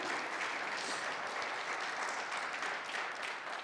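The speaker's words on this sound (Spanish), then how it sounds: "Denle un aplauso a Cristo Jesús." A church congregation applauds, a faint but continuous wash of many hands clapping that holds evenly with no voices on top.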